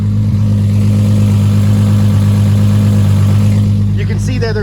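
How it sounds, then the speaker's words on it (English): A 2JZ-engined car with a Tilton twin-disc clutch idles with a loud exhaust, giving a steady, close, unbroken drone; a voice briefly joins near the end. "This car's really loud with the exhaust"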